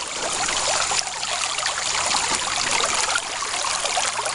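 Stream rapids beside a small waterfall rush and splash over rocks in a dense, steady wash of water that is loud and close throughout, with no voices.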